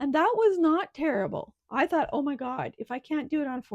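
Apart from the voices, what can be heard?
None of the usual background noises is heard.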